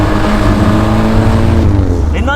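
A Triumph Spitfire sports car engine runs loud and close, a rich, steady growl with strong harmonics throughout, easing off slightly at the very end.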